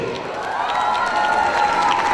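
An audience at a children's holiday event in the Santa Fe shopping centre in Bogotá gives strong applause, mixed with cheering and children's shouts, which swells and grows louder toward the end.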